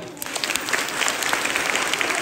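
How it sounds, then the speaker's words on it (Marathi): A crowd of women at a Marathi Home Minister comedy game show claps with raised hands, a busy, loud, continuous ripple of applause that swells slightly through to the end. "हात वरती करून टाळ्या वाजवा"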